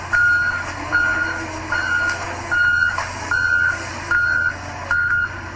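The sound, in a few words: trucks moving bodies, reversing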